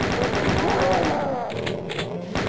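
Enemy shotgun fire in the DOOM video game, on level E4M1 Hell Beneath, comes as a dense run of rapid, punchy blasts, loud and close, mixed with game noise and talk.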